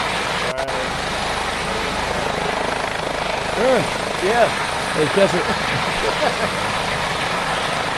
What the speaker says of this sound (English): Jerry Jones coming in during practice in his helicopter